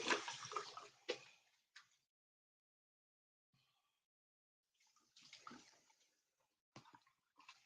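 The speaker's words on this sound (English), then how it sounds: "You just rinse it off." Water rinsing off skin during a skincare routine, heard as two splashing bursts at the start and again near the end, separated by a quiet pause, with no talking.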